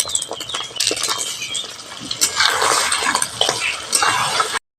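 Beaten egg hits hot oil in a pan, giving a steady close sizzle with scattered crackles and a few light scraping clinks of a utensil, no voices.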